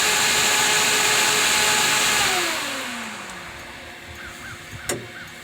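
Air conditioning blower and compressor of a 1967 Ford Econoline converted to electric, a loud broadband whoosh with a falling whine as it winds down, then quieter hum and a brief clunk.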